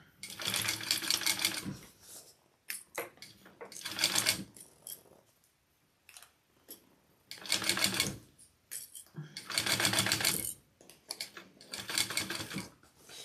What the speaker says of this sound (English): I'm going to baste first, and then we'll do our full seam allowance.